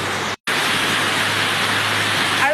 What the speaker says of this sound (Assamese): আৰু বৰষুণ দি আছে